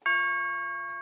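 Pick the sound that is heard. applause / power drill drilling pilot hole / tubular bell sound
tubular bell sound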